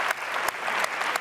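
A studio audience on a Spanish youth entertainment show breaks into brisk, close applause, a thick burst of clapping with a few sharper accents poking out, and no talking over it.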